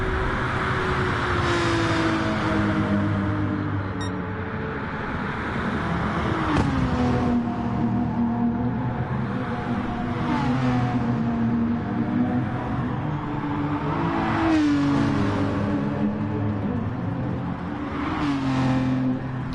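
Racing cars roaring around Spa Francorchamps during a 12-hour endurance race, engines rising and falling as they pass, with an AMG running in the slipstream; a continuous loud drone with repeated pitch sweeps from accelerating and passing cars.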